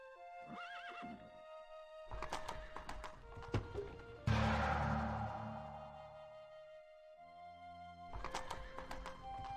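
Horses in the real-time strategy game Rise of Nations, a white horse and two horse archers, whinny and neigh repeatedly with clip-clopping hooves, loud and close, with no talk over them.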